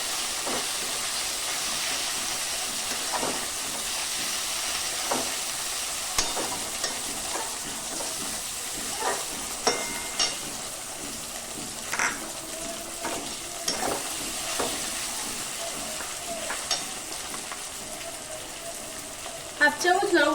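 Chopped tomato with browned onion fries and sizzles in a pan for a fish curry, a steady loud hiss broken by scraping and clacking stirring strokes throughout, without talking.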